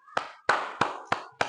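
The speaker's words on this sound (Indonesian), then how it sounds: "Kita berikan tepuk tangan yang meriah." Five sharp, evenly spaced claps ring out in a classroom, each hit crisp and separate with a short decay, fairly close and alone.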